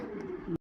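A single low, soft pigeon coo, close by and brief, ending abruptly.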